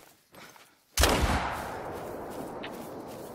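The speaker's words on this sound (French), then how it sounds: "Ah, je tire à l'air." A single loud hunting-rifle shot fired into the air in theHunter: Call of the Wild, a sharp crack after a brief quiet rustle, followed by a long rolling echo that fades slowly across open ground.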